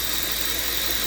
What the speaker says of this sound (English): I just turned the engine on, so I wanted you guys to hear the difference in idle before it warms up.